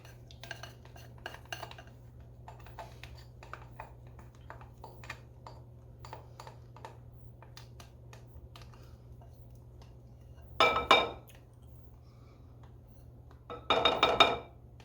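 A spatula scrapes lemon meringue pie filling out of a bowl into sugar with cornstarch and water, giving light scattered clicks and scrapes followed by two louder, longer scraping bursts near the end.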